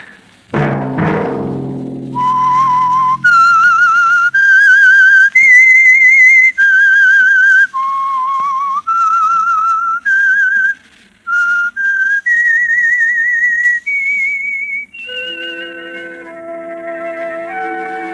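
A lone, loud whistled melody of sustained, wavering notes that climbs and falls, ending on a softer sequence of low, orchestral-like tones, the signature theme of a 1947 CBS radio mystery program.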